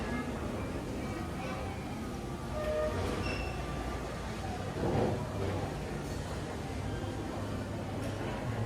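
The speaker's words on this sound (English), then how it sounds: "Look, guys, monorail." A Disney World monorail runs past the park, producing a broad rolling rumble under a steady wash of background noise and crowd sound, moderately loud and sustained.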